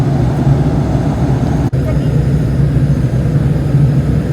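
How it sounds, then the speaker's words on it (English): Ferry ship motors revving up before departure, a dense, loud, continuous low rumble and drone with constant vibration and no letup. "I can feel the motors in the ship. They've revved up a lot"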